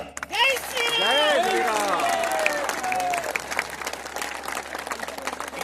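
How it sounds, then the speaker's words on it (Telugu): An audience at a Hindu gathering in Peddapuram claps together in a sustained burst of applause, the crackle of many hands continuing while a voice talks over it at the start. "గట్టిగా మన కరతాళ ధ్వనులతో ఆమోదాన్ని తెలియపరుద్దాం"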